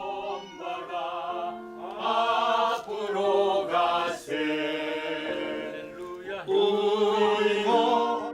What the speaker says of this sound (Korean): 오랜만에 찬양 소리가 울려 퍼집니다